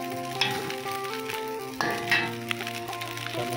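Nasi goreng frying in a hot pan, a steady close sizzle broken by clinks and scrapes of a utensil stirring the rice, with no talking.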